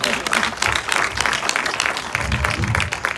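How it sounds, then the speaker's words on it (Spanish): A crowd applauds steadily with dense, continuous clapping that holds at an even level throughout. "Aplauso para ustedes."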